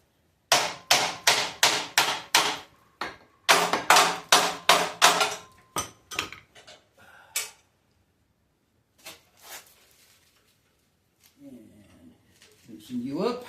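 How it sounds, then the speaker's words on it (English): A big hammer strikes a Ford Model A leaf spring, first in two quick runs of about six hard metallic blows each, then a few scattered hits before someone speaks. "With a big fucking hammer."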